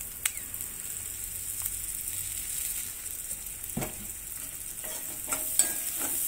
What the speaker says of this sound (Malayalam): ഇതിലേക്ക് നമുക്ക് കുറച്ചും കൂടി വെളിച്ചെണ്ണ ഒഴിച്ചു കൊടുക്കാം കേട്ടോ, കുറച്ച്.